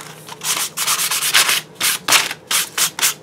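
Printed paper is rubbed with sandpaper in quick, close, scratchy strokes, a rapid series of loud rasping bursts with short pauses between.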